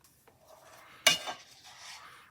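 A plate set down with a sharp clatter of dishes and cutlery while assembling flour tortilla tacos in a home kitchen, one loud clank followed by brief rattling, then quieter handling.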